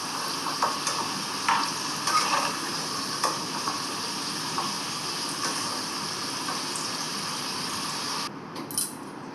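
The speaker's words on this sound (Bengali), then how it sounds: "আলুটা ভাজা হয়ে গেছে, আমি এবারে কড়াই থেকে তুলে নিচ্ছি।" Potatoes fry in oil in a wok, a steady low sizzle with scattered stirring clinks and scrapes throughout, moderately quiet and even, ending with a brief clatter.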